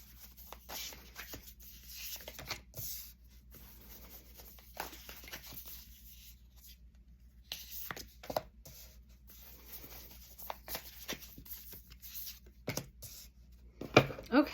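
Tarot cards shuffled and pulled from a deck, soft papery rubbing and flicking in scattered close bursts with quiet gaps and a few sharper slaps near the end.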